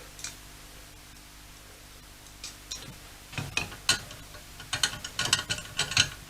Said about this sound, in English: it's a 22mm spanner you need for this